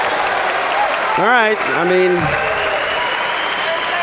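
Loud, sustained applause from the crowd at a combat jiu-jitsu event fills the whole stretch, while commentators talk over it.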